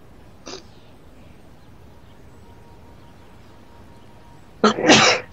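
A single sneeze in a quiet indoor setting while a DC Universe Online session plays, heard as a short loud burst after a faint earlier breath-like sound, with no talking.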